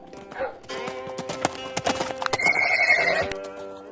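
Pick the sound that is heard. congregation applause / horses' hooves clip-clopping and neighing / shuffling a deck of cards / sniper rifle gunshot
horses' hooves clip-clopping and neighing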